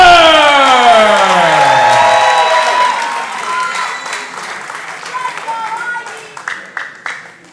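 An arena crowd at a House of Champions wrestling show roars with applause and cheers for Ivy Mercer, the HOC Women's Champion from San Juan, Puerto Rico. The din is loud and sustained with sweeping tones in it, then thins out toward the end.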